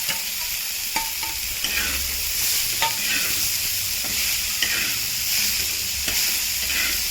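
Vegetables for a spicy village-style kurvadi bhaji sizzle steadily in a pan while a spoon stirs them, scraping and tapping against the metal now and then.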